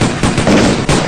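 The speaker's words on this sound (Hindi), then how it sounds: "गोली चल गई।" A rapid burst of several loud, close gunshots, cracking in quick succession over about a second.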